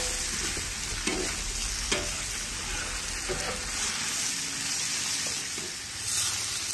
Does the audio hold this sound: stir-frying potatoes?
yes